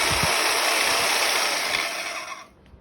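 A Bauer portable band saw whirs with a steady, bright, high-pitched hum up close, then cuts off abruptly near the end, leaving near silence.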